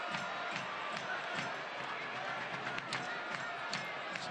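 Supporters at a Tampa Bay Rowdies soccer match against Hartford Athletic keep up a distant steady crowd roar with chanting and rhythmic drumming, with a commentator talking over it.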